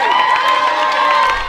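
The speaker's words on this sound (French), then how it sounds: "Des applaudissements, des chants et des cris" Crowd at a school event on the Kimwenza plateau cheering, singing and shouting over scattered applause, a dense, loud wall of voices close by and continuous throughout.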